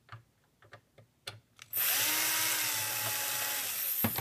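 A power drill backing screws out of a machine's cover plate whines in one steady, loud burst after a few light taps and clicks, close up and alone, with no one speaking.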